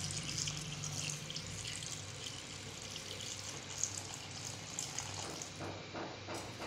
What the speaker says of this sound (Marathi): आणि शिजण्या इतपत आपल्याला पाणी टाकायचं आहे